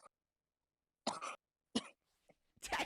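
A few separate coughs and throat-clearing bursts break through silence, close and fairly loud, with short pauses between them.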